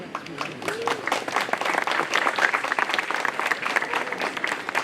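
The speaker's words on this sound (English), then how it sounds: "When people start clapping hands," Audience clapping at a diplomatic address, a steady wash of many hands, with crowd voices and some talking mixed in under the applause.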